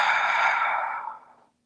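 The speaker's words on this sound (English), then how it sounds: "Breathe 3 slow, deep breaths here" A slow, deep exhale during a yoga class, a long breathy rush that fades gradually over about a second and a half, close and alone.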